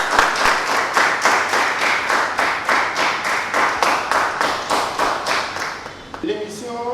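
A studio audience at a business talk show claps in a steady, rhythmic unison beat, many hands striking together at an even pace, before a voice starts speaking at the end.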